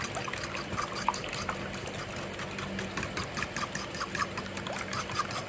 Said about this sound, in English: I am just whisking this up.